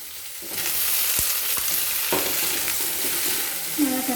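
Potato pieces fry with browned onions and panch phoron in oil, a dense, constant sizzle punctuated by a few sharp knocks and scrapes of stirring.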